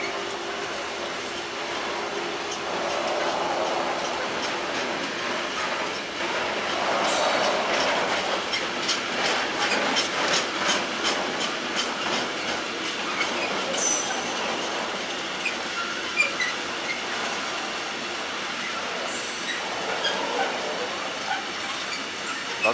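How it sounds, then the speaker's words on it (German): A long container freight train rolls steadily through Veitshöchheim station in Germany, wheels clattering rhythmically over rail joints with occasional squeals, a continuous rumbling pass at moderate distance. "Das ist auch mal eine beachtliche Zuglänge des Containerzugs."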